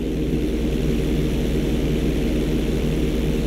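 Propeller plane in Grand Theft Auto 5 flying an inside loop, a loud, steady engine drone with a pulsing propeller beat close by, no voices.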